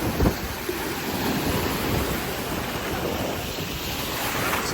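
Ocean waves breaking on a beach with heavy wind buffeting the microphone, a steady loud wash of surf and gusts throughout and no voices.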